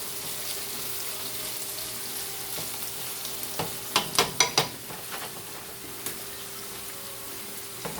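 Onions frying in a pan for chicken and dumplings soup give a faint, steady sizzle, with a few brief clattering stirs and pops in the middle.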